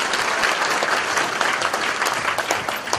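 A crowd at a launch ceremony for a committee opposing the THAAD deployment in Seongju applauds steadily, a thick wash of clapping holding at an even level throughout.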